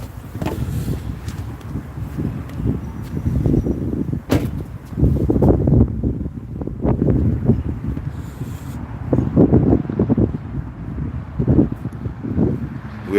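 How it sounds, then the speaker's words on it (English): Strong outdoor wind buffets the microphone in loud, low, rumbling gusts that surge and fade continuously for the whole stretch, with no voices. "It might be a little windy, so you guys gonna have to bear with me real quick."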